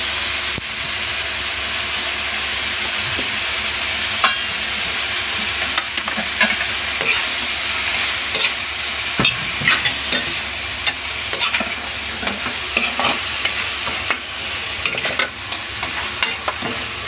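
Squid stir-fries in a hot pan with a loud, steady sizzle and hiss, while a utensil scrapes and clicks against the pan throughout.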